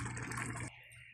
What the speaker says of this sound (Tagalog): Lagdagan lang natin yung tubig para hindi matuyo